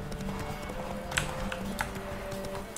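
Horse hooves clip-clop in a quick, irregular trot on a horseback ride, faint and set against a busy background, with a couple of sharper knocks standing out.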